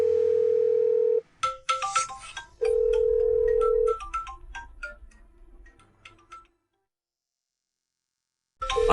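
A phone call being placed: a steady continuous tone sounds twice, broken by a quick run of beeping keypad notes and clicks, then the line goes silent before the tone returns.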